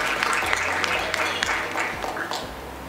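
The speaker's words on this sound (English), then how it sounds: "Big round of applause one more time." Audience at a restaurant awards ceremony applauding, a dense patter of many clapping hands with a few sharper claps standing out, fairly loud and continuous throughout.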